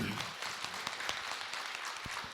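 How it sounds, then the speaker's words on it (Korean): An audience at a Korean Buddhist dharma talk claps to welcome the speaker, a brief, even patter of applause at moderate distance with a few sharper individual claps. "박수로 맞으세요"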